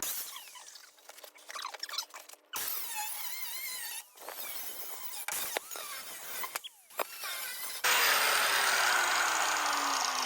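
A power tool cuts through the front suspension of a 1961 Mercury Comet in loud, whining bursts that stop and restart several times, ending in a sustained harsh roar.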